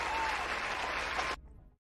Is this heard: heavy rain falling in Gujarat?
no